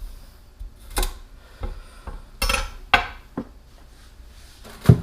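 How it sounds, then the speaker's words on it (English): A knife cuts trimmed, washed celery into smaller pieces on a board, making a handful of separate sharp chops and knocks with gaps between them. "I'm going to cut it into smaller pieces that are more manageable"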